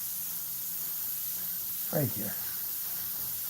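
An airbrush sprays light-coloured Createx paint onto synthetic paper while fur is being painted, producing a steady, close hiss throughout. A voice speaks briefly over it.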